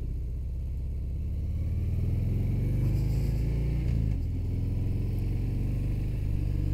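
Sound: Harley-Davidson Fat Bob 114 motorcycle shifting into first gear

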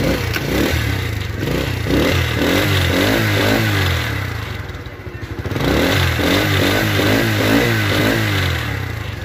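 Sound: Dayang AD 80 motorcycle engine running

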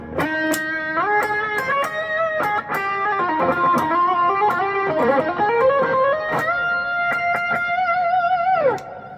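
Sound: electric guitar solo tone through effects

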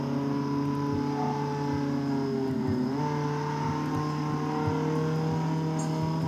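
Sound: car driving in a video game

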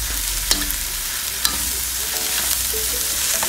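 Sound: stir-frying sea fish intestines in a pan

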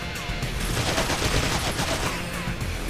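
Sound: enemies shooting at the player in a video game

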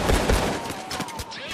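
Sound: Steakout 12g shotgun firing in Payday 2 video game

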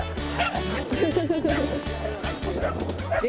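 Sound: corgi dog barking

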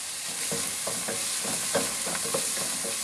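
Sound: diced onion sweating in a pot

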